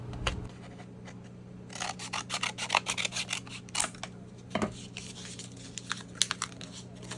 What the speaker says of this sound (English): I'm just going to cut off some of the paper.